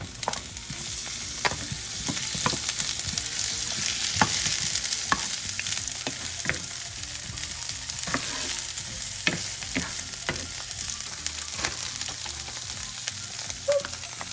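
Onion sizzles in a pan with shrimp on lowered heat, a continuous close frying hiss broken by repeated scraping stirs and occasional clinks of the utensil against the pan, with no talking.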